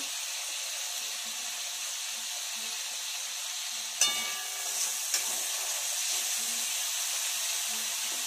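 Spice paste sizzling in a pan for a cauliflower and bata fish curry as Kashmiri chilli goes in, a steady bright hiss with a sharp clink and a brief crackle when the chilli is added.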